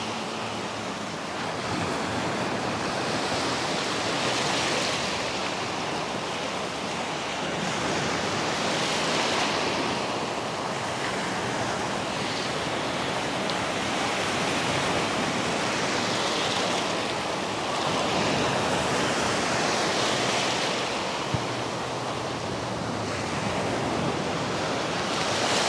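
Ocean surf rolling in on the beach at Gulf Shores, Alabama, a loud, continuous wash of breaking waves with slow swells of rising and falling noise, close by and with no talk.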